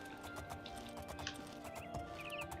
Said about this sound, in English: Oh, are you looking for a horse? Is this your horse? Here's your horse, man.